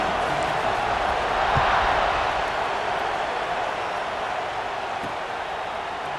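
Football stadium crowd at a game during a kickoff, a broad steady roar of cheering and murmuring that swells slightly early on and then settles, sustained throughout.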